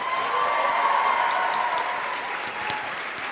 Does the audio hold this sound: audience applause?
yes